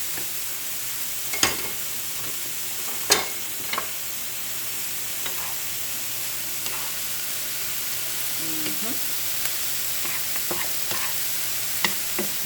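Vegan mushroom fajitas sizzling in a pan, a soft constant frying hiss broken by occasional sharp clinks and scrapes of stirring, with no talking.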